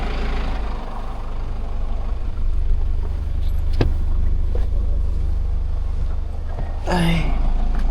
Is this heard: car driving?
yes